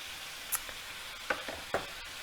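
Pork and red pepper brown in a pan with a soft, quiet sizzle, broken by a few sharp clicks and scrapes from stirring.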